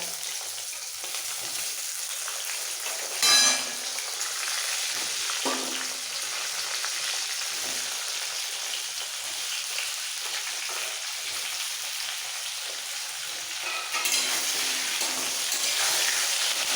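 Potato, aubergine, tomato and drumstick pieces frying in oil, a long, steady, bright sizzle with a brief clatter early on and a surge of hiss near the end, no one talking.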